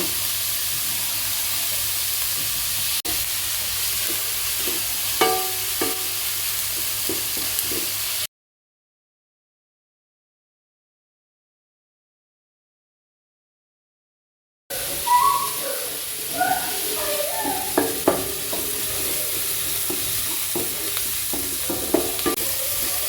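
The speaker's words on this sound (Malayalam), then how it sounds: "സവാള നമ്മൾ ചെറുതാക്കി അരിഞ്ഞതാണ് ഇട്ട് കൊടുക്കുന്നത് എന്നിട്ട് അതൊന്ന് ഇളക്കി കൊടുത്ത് അതൊന്ന് വാടുന്നത് വരെ നമ്മളൊന്ന് ഇളക്കി കൊടുക്കും" Chopped onions sizzle and crackle in a hot pan while being stirred, a steady frying hiss with scraping stir sounds, broken by a silent gap midway before the sizzling resumes louder.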